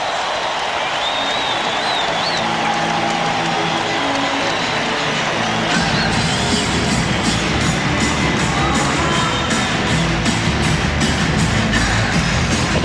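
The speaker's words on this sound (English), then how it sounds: "The crowd loves it." A packed home arena crowd of Portland Trail Blazers fans at a 1992 playoff basketball game against Phoenix roars steadily, the cheering swelling louder and denser about halfway through with sustained whooping and applause.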